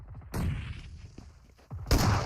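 Grenade explosions in the battle royale game BGMI, two loud booming blasts about a second and a half apart, each with a rumbling tail, over a quiet gameplay background.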